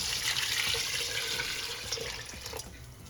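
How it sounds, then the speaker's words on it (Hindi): A full bowl of water poured into a pan of fish head curry cooking in ghee, a steady splashing rush that continues for a few seconds before tapering off, with no talking. "इस पॉइंट पे आपने डाल देना है इसके अंदर एक भरा बाउल पानी शोरबा बनने के लिए।"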